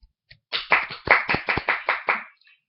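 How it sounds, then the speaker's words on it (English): Short burst of hand clapping from a small crowd, about eight separate sharp claps in a quick rhythm, loud and close, given in tribute to Donald Sterling during a CNN interview. "what I'd like to first of all give Donald Sterling an applause."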